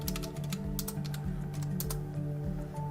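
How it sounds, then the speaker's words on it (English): Fingers type an IP address on a computer keyboard, a quick irregular run of close key clicks over a steady low background hum. "We're going to type in the IP address of our camera."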